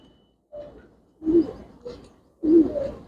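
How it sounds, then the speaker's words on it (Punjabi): Pigeons coo in a few separate soft, throaty phrases, close by, with short gaps of quiet between calls. "ਅੱਜ ਆਪਣੇ ਕੋਲ ਢੱਲਾਂ ਵਾਲੇ ਕਬੂਤਰ ਵੱਧ ਆਏ ਹੋਏ ਆ ਬਾਈ"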